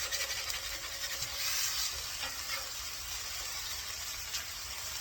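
A smash burger sizzles loudly and steadily on a hot griddle while a spatula scrapes under the patty and flips it, a close, continuous crackling hiss with no break.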